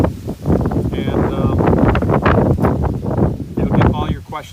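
Wind blowing outdoors, buffeting the microphone in a steady low roar that rises and falls beneath someone talking throughout.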